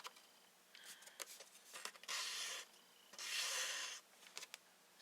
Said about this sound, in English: I'm just doing this, just rubbing it on my ink pad